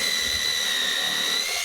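A power drill whines at a steady high pitch, pre-drilling a pilot hole through a 4x4 into a 2x4, running continuously and close up without pauses.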